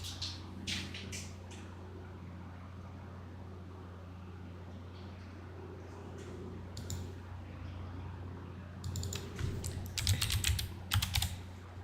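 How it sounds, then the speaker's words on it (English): Keys on a computer keyboard clatter in short bursts of typing, quiet and close over a low steady hum, with pauses between bursts. "So just typing chaos magic ritual instead."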